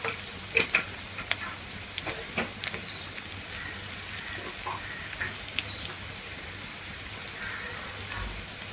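Mustard seeds and cumin sizzle in hot oil, a steady soft crackle with small pops and a faint stirring scrape, close and fairly quiet.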